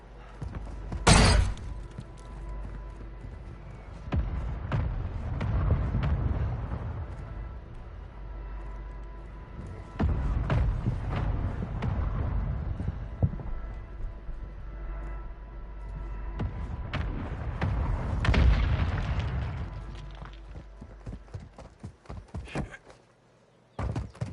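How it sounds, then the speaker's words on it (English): Mortar strike in Call of Duty Warzone 2.0: a sharp blast near the start, then heavy booming explosions rolling in waves with low rumbling between them, plus a few later impacts. "Hostile mortar strike near your position."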